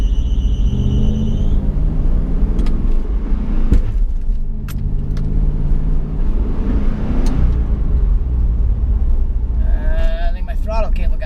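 An LS-swapped Nissan 350Z runs on its first drive, with a low, steady engine rumble and droning harmonics throughout. A person talks over the engine noise.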